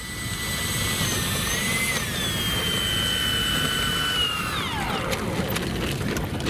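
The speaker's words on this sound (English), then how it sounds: "That's just a smooth sounding plane, isn't it?" An A-10 jet aircraft roars steadily in flight, a smooth continuous engine whine with a high tone that slides lower near the end, loud and close throughout.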